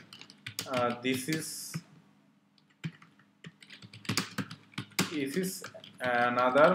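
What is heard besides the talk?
typing on a computer keyboard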